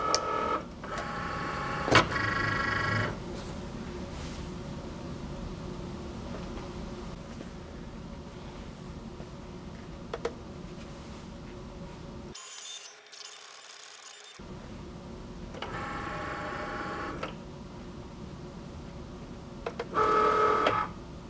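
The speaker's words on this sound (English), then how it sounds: "Now we'll load the material into the Cricut and press go." Cricut cutting plotter scoring double-sided tape, a quiet mechanical whir of carriage moves with louder motor bursts at intervals and a brief silent gap midway.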